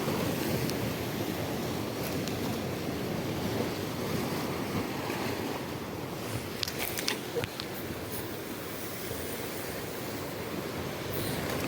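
Ocean waves and surf heard from a boat out at sea, a continuous rushing wash mixed with heavy wind buffeting the microphone and a few faint clicks.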